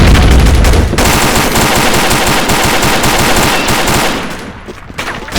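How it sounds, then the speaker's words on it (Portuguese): Loud, sustained machine-gun fire in a video game rattles in a fast, dense stream for several seconds before tapering off with a few last shots. "esse Lolo Rock aí toma tiro pra cá"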